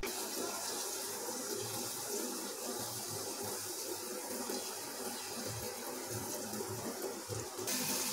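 Imarti batter fries in hot oil with a soft, steady sizzle that runs unbroken and fairly faint throughout, with no talking.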